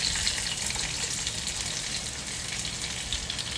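Chopped onions sizzle steadily in hot masala oil for a mussel biryani, a soft continuous hiss and crackle without talk.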